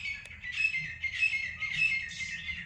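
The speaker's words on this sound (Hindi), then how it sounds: "और ये चिड़ियों की आवाज़ आप सुन रहे होंगे, इनकी चहचहाहट" Small birds chirp and tweet in a village compound beside a pakad tree, with overlapping bright calls in steady bursts over a low background hum and no talking.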